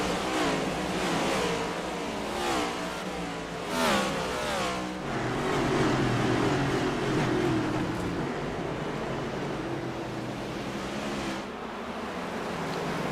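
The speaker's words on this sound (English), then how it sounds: "Let's just listen to the sound of these cars." NASCAR Cup Series race cars roar around Martinsville Speedway in a steady, dense engine drone that surges and fades as packs pass, with no talk over it.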